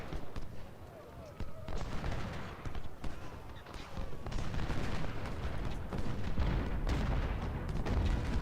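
Musket volleys and cannon fire rumble through a Civil War battle in the strategy game Ultimate General: Civil War, repeated crackling bursts and deep booms of fairly steady loudness that build toward the end, with talk over them.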